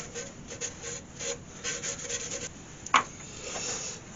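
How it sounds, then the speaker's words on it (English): A natural-edge yew bowl being buffed by hand, a close, steady rubbing and rasping of cloth against wood with uneven strokes and one brief sharp knock. "I'll have to buff all that up by hand."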